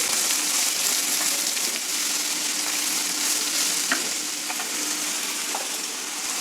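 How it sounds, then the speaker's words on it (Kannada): Vegetables sizzle and crackle in hot tempering oil, a steady close-up frying hiss with a few sharp pops and scraping stirs scattered through. "ಈಗ ತರಕಾರಿ ಎಲ್ಲ ಫ್ರೈ ಆಗ್ತಾ ಇದೆ ಒಗ್ಗರಣೆನಲ್ಲಿ"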